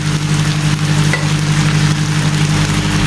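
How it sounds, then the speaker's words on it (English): Prawns fry in a pan with a loud, steady, close sizzle and crackle, a constant hiss with no voices over it. "Now I'm going to start frying on this."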